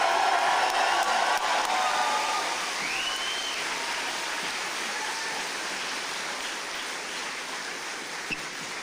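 Sustained applause from a rally crowd at the Enough is Enough launch in Glasgow, a steady dense wash of clapping that stays loud throughout and eases only slightly toward the end.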